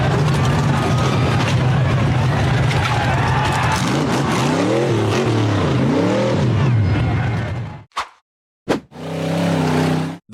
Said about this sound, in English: The green buggy accelerated hard up a steep dirt hill.